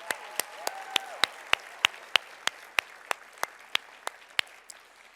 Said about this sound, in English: Big round of applause for all of these outstanding nurses.